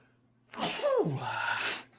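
A single loud sneeze, close by, with a sharp inhale rising into a forceful burst of breath.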